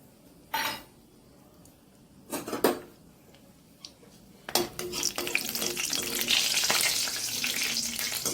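Whole cloves, cardamom pods and a small piece of cinnamon fry in hot oil in a pan, starting with a few sharp clinks and scrapes, then building into a steady, close sizzling hiss.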